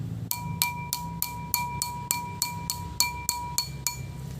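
Pencil strikes on a glass half full of water give about a dozen quick, steady clinks, each with a brief bright ring, close up and alone with no voices.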